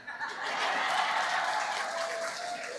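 Audience clapping steadily at a city mayor's inaugural ceremony, a broad, continuous wash of applause from a large crowd with scattered chuckles and voices mixed in.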